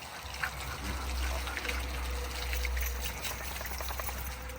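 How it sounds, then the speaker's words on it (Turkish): Steady running shower water pours and splashes over a dog being washed, a continuous wet hiss with a low hum underneath. "Birlikte yıkanıyoruz, duş alıyoruz."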